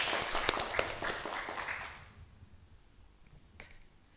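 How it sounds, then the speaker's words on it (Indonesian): Audience applause for a mayoral candidate at a Tasikmalaya debate, a burst of clapping that fades away after about two seconds, with a couple of sharp claps near the end. "Tepuk tangan buat Kang Ajis Rismaya Mahfud."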